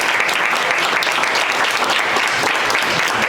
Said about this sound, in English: We're going to finish with a round of applause for you